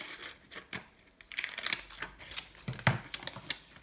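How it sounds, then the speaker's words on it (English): Close crinkling and snipping of scissors cutting paper while decorating a journal, a run of short irregular cuts and rustles with no talking. "let's see, let's use the scissors."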